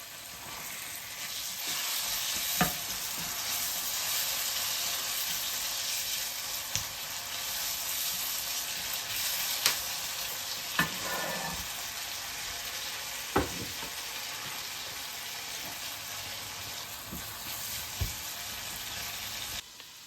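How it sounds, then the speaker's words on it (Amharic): Chopped tomatoes fry in a pan with a steady, close sizzle running throughout, broken every few seconds by sharp knocks and scrapes as the mixture is stirred; no voices. "ቀጥለን ደግሞ የተከተፈ ቲማቲም እንከታለን።"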